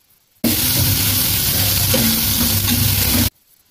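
Chopped onion hitting hot oil in a pan with garlic already cooked, a loud steady sizzle starting abruptly and holding close and constant for about three seconds, then cutting off.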